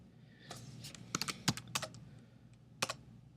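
Keys clack on a computer keyboard during data entry, a quiet, irregular patter of single keystrokes and short quick runs, close by with no talking.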